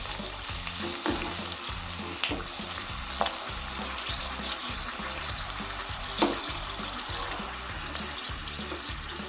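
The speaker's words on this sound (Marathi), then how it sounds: "तर चला आपली चकली तळून बघूया" Sabudana potato chakli dough fries in hot oil with a steady, dense sizzle, a close and continuous bubbling crackle marked by occasional sharper pops, and no talking over it.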